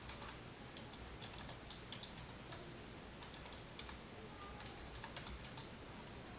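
Code being typed on a computer keyboard, a steady stream of faint, quick key clicks with a soft background hiss and no talking.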